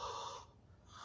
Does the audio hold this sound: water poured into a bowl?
no